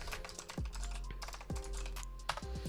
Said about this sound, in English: all you need to do is type pip install dhooks